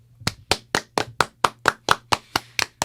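About a dozen sharp, evenly spaced claps ring out close and clear in a radio studio, a brisk steady rhythm with nothing else underneath.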